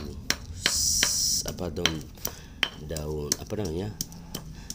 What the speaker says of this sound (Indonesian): Ini coba kita ulek sampai ya lumayan halus ya